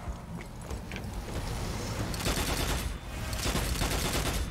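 Gunfire from the video game Strange Brigade crackles in dense rapid bursts, loud and sustained, with a brief gap midway before the shooting resumes.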